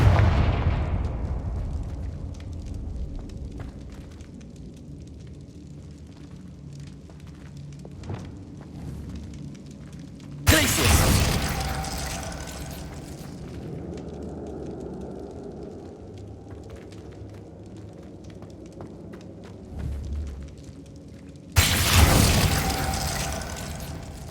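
Two loud Confringo fire-spell explosions from the Hogwarts Legacy video game burst about eleven seconds apart, each a sudden broadband blast that rumbles and fades over a low ambient game background.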